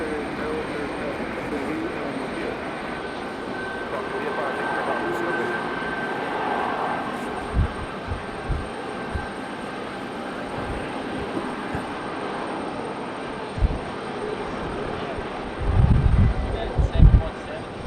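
A Boeing 717 jet landing at Raleigh-Durham International Airport: a steady, broad engine roar holds throughout, and a few low thumps and rumbles build near the end.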